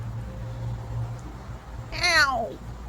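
A cat on a porch lets out one loud, drawn-out wavering meow near the end, preceded by quiet outdoor hum and a faint low drone.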